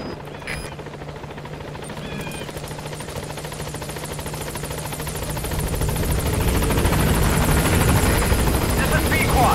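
A support helicopter in Metal Gear Solid V approaches the landing zone, its rotor chop a steady, dense throb that grows louder and nearer over time, with a voice speaking over it.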